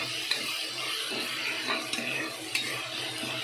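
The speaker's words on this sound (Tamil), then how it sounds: "அப்படியே ஃப்ரை பண்ணுங்கள்." Onion, ginger and garlic frying in hot oil, a steady close sizzle with a few sharp stirring scrapes of a utensil against the pan, no voices.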